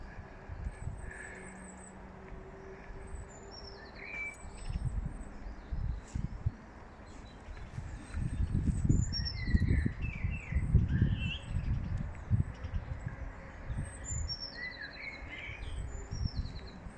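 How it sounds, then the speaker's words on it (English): Early spring birdsong rings out with repeated bright chirps and trills from several birds at a moderate distance. A low outdoor rumble and occasional scuffing sit beneath the song throughout. "It's the early spring bird song that does it for me."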